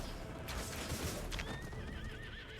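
Horses neigh and whinny amid cavalry units in a strategy video game, a rising whinny trailing off over a busy backdrop of hoof clip-clop and battle noise, steady and fairly loud throughout.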